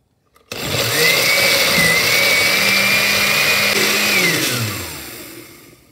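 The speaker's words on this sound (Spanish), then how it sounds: "También los voy a licuar y a reservar." A blender blending pasilla chiles whirs steadily for several seconds, loud and close, its motor pitch holding even and then winding down at the end.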